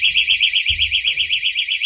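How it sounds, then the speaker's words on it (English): A portable travel door alarm sounds a loud, continuous pulsing electronic tone throughout, set off when the door is pushed, with a brief thump of the door partway through. "you see that the door didn't even open and the alarm went off"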